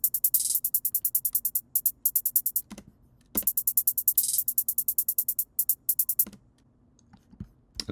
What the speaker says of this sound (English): And then for the drums, we got a really simple hi-hat pattern here.